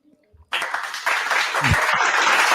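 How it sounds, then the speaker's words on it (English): Live podcast audience breaking into applause after a short pause, a sudden swell of many hands clapping that carries steadily to the end, with a voice heard briefly. "Delayed clap, but that's all right."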